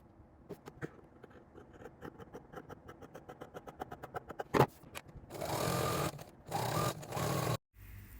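A home sewing machine stitches fabric strips together for a frilly skirt, starting as quick rhythmic needle clicks that speed up into a continuous whirring hum, broken by brief pauses and a sharp clack.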